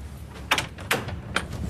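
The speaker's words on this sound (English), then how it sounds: "Hold on, that's the door." A house door being opened in a domestic drama scene: three sharp clicks and knocks of the latch and handle spaced across a moment, fairly close and clear over quiet room tone.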